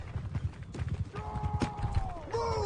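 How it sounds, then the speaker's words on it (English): Horse hooves clip-clop in rapid, uneven steps through the Mount and Blade 2: Bannerlord video game, with brief whinny-like tones and game effects layered over the hoofbeats. "there's a horse back there. I'm gonna have that horse."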